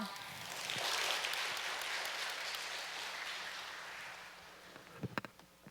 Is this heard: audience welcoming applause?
yes